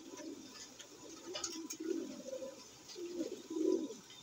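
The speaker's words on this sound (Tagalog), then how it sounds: "Yan ang ibon natin." Soft pigeon coos from a racing pigeon in a loft, several low murmuring phrases repeating through the clip at moderate distance, with faint background noise and no talking.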